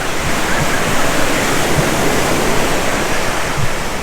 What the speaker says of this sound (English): I have to run up because the water is coming up here